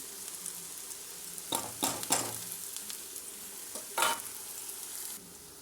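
Curry leaves fry in a pan for a meal maker curry, giving a steady soft sizzle with a few clattering stirs of a utensil against the pan partway through.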